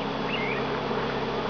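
Honeybees hum around the hives of a small backyard apiary, a soft steady buzz with one bee droning briefly nearer, quiet and without voices.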